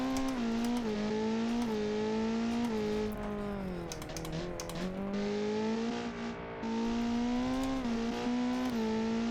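A car in the BeamNG driving game, run on a time attack map, drones steadily with its engine pitch rising and dipping through gear changes and throttle lifts, loud and continuous with occasional tire noise, no talking.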